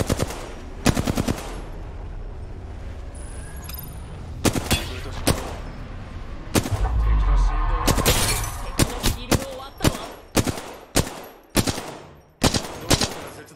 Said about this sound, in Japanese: 発砲中。